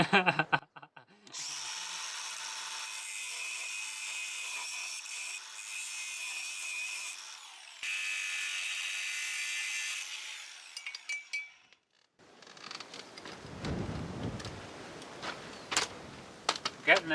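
A power tool grinding a wooden beam during an old off-grid house renovation, a loud steady whine running for several seconds, briefly pausing and resuming, then giving way to rougher scraping and knocking, with a voice talking at times.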